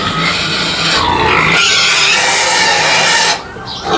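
Pigs on a farm grunting and squealing during a late feeding, a loud continuous chorus of close snorts and squeals that dips briefly near the end.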